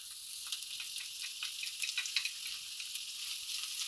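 One whole onion goes into hot butter and fries with a soft, steady high hiss, with light crackling pops scattered through, faint and close with no talking.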